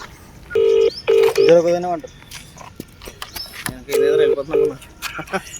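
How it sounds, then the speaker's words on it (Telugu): A mobile phone is dialled, sounding a short run of steady keypad beeps followed by a second burst a few seconds later, with voices talking nearby in between. "ఫోన్ చేయి గంగు"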